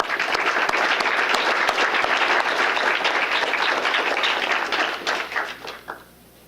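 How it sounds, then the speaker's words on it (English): Warm, dense applause from an audience at a mayor's employee recognition awards, honoring 30 years of service; the clapping holds strong, then tapers off into a few last claps and quiet. "let's give a big round of applause for 30 years of dedicated"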